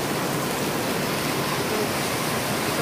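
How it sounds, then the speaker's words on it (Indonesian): Heavy rain pours down in a dense, even roar of broadband hiss, steady and unbroken, with no voices over it. "Hujannya deras."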